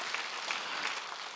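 A congregation at a church service claps together during a sermon, a brief, steady patter of many hands at moderate volume with no voices over it.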